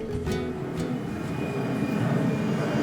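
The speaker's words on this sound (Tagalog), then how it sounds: "May aeroplano. Ang galing. Surround sound pa." Airplane passing overhead in a dense Hong Kong neighborhood, a steady low roaring drone that holds even throughout, moderately loud.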